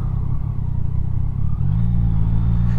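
A motorcycle ridden through the rainy Ardennes hums at a low, steady engine drone, then dips and rises in pitch as it changes gear partway through, close and fairly loud.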